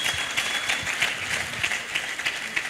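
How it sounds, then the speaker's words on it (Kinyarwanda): Audience applause for a pastor at a church gathering, a steady wash of many hands clapping, sustained and fairly loud for a few seconds. "amashyi cyane kuri pastor"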